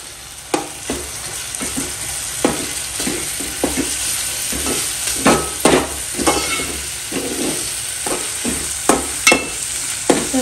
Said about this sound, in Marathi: दोन मिनटं परतून घेऊ।